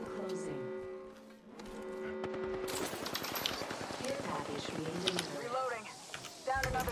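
Rapid automatic gunfire from the battle royale game Apex Legends rattles in fast repeated bursts after an opening tonal sound, loud and close, with voices talking over the shooting.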